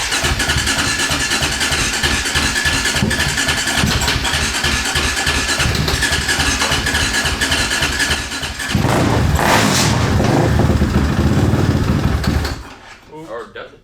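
A KTM 525cc cross kart engine cranks and fires, then runs loud and close with a steady rough drone. Its note shifts partway through before the engine cuts off abruptly near the end.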